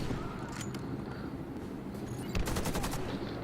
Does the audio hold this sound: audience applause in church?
no